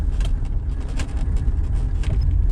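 A Mercedes 300D driving along a road, its low engine drone and tyre rumble steady and close throughout, with no talk.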